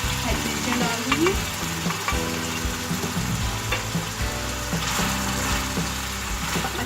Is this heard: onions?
yes